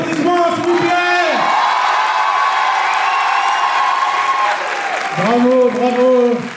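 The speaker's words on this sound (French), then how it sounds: "maximum d'applaudissements, s'il vous plaît." A crowd at an Indian dance show claps and cheers loudly, with whoops and shouted voices rising over continuous applause.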